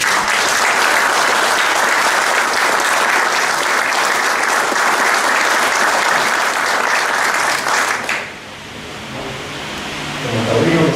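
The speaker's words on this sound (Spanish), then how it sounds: "Les pido un fuerte aplauso, por favor." Conference audience gives a loud, sustained round of applause for about eight seconds, dense and close, then it cuts off and quieter room noise with voices follows.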